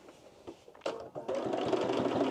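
A domestic sewing machine top stitches around the neck of an oversized blazer, starting with a brief whir, pausing, then running in a steady continuous buzz that fills the last second.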